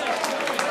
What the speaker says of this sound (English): Give her a round of applause right now.